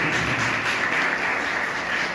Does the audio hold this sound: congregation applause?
yes